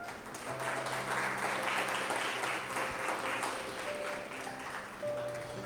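A church congregation in a Spanish-language service claps for the Lord, a continuous, full-bodied round of applause over a low steady tone, tapering slightly near the end.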